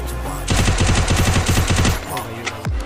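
Rapid automatic gunfire from a shooter video game in a 4v4 squad match, a dense burst of about a dozen loud, evenly spaced shots lasting around a second and a half, followed by scattered quieter game sounds.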